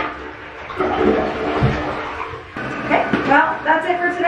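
A household toilet flushes nearby with a rushing, gurgling swell of water; a voice and other noises break in over the latter half.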